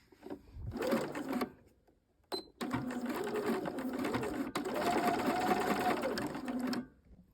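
A sewing machine stitches and backstitches at the corner of a pair of trousers, a short burst, a brief pause, then a longer steady run of rapid needle chatter, close and clear.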